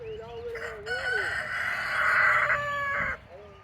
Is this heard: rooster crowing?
yes